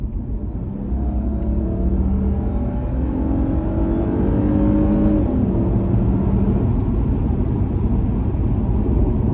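A 2005 Lexus GS300 with its V6 engine accelerating on kickdown, a steady loud engine drone with rising harmonic tones as revs climb, heard from inside the car with no talk.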